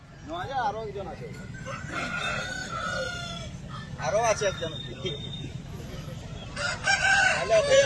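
Roosters and hens at a busy chicken market crow loudly in several bursts, mixed with clucking. Someone speaks briefly nearby, and the crows come close and strong near the start, middle and end.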